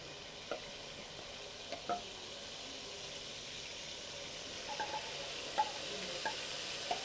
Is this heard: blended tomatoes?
yes